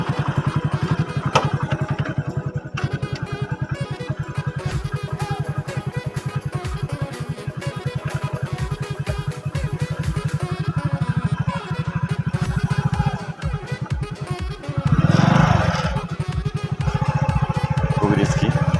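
A motorcycle engine runs steadily and loud while the bike is ridden slowly downhill on a risky descent with the throttle released and light braking, the rumble swelling briefly near the end.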